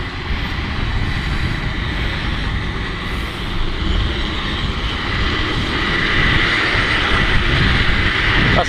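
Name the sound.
metro train on rails in San Francisco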